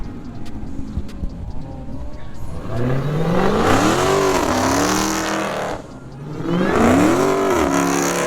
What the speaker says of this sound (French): Écoutez-moi le compresseur de ce truc là